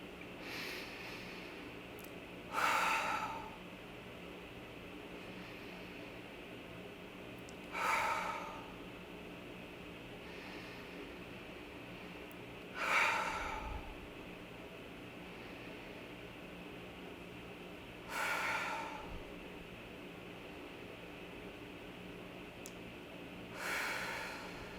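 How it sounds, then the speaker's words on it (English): Slow, deep breaths during a guided breathing exercise: five evenly spaced bursts of inhaling and exhaling, about five seconds apart, close and clear over a faint steady hum. "Inhale really deeply, and then on exhale, release it all out into the earth or the universe."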